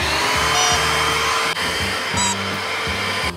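A Bissell Pet Hair Eraser battery-powered vacuum runs continuously close by, a steady high whine over a low motor hum, cleaning floors and throw rugs inside a van, with no talk.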